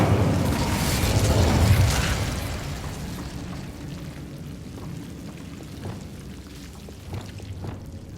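A fire spell cast in Hogwarts Legacy, a loud whooshing burst of flame that swells over the first two seconds and then dies into a crackling, fading rumble with a few scattered pops.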